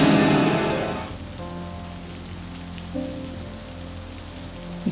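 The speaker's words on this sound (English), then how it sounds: "you feel the rain hitting your face" Rain falling on surfaces, a dense loud patter at the start that quickly fades to a soft, steady hiss beneath low sustained tones.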